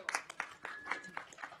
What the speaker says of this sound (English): just a big round of applause and thank you